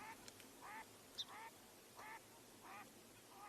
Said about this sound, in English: Those are green-winged teals back here.